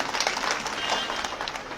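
An audience at a political speech in Himachal breaking into loud applause, a dense steady wash of many hands clapping close by for the whole stretch.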